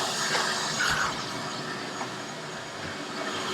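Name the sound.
vacuum sucking up water from the floor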